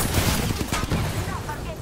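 Rapid gunfire from a firefight in the video game Apex Legends, dense bursts of shots packed close together across the short moment with a voice talking over them.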